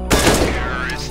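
A single loud, close gunshot in the video game CS:GO, with a sharp crack followed by a ringing decay.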